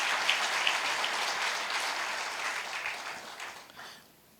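A church congregation applauds newly ordained officers at a dedication service, with dense, steady clapping from a large crowd that fades away toward the end.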